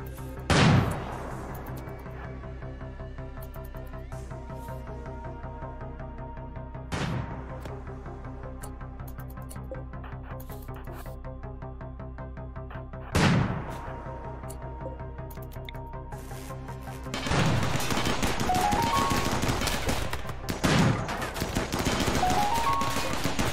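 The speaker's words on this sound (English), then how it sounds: "Firing up the slugger." A slugger gun fires in the video game RimWorld. Several loud, sharp bursts come at spaced intervals, and a denser stretch of rapid fire and impacts follows near the end.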